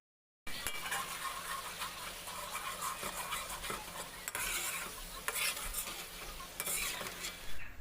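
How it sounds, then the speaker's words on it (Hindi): Tomatoes for a Peshawari namkeen beef karahi fry on high flame, a loud continuous sizzle broken by repeated scrapes and knocks of stirring against the pan. "आंच को तेज़ करके इसको भून लेना है।"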